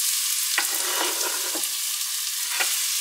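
Finely sliced onions fry in scented Asian-style oil, giving a loud, continuous close-up sizzle with a few sharp bursts as they are stirred.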